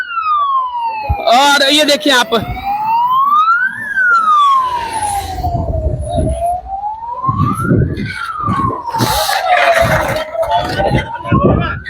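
A fire engine's wailing siren sweeps up and down in long repeating cycles, growing loud and close as it arrives at a large fire in migrant workers' slums, with someone talking over it and traffic rumble underneath.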